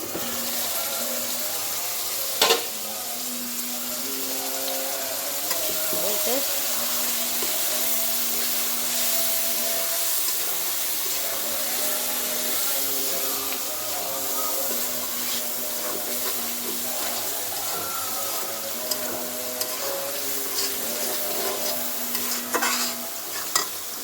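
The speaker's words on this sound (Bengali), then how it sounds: "এই যে পটল ভাজি করতে আছি" Pointed gourd (potol) frying in a pan gives a continuous close sizzle with repeated stirring clinks and scrapes, steady and moderately loud throughout, with no talk.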